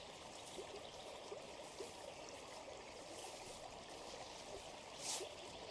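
A river stream flows steadily along a riverside path, a continuous soft trickling and rushing of water with no voices, moderately distant and even throughout.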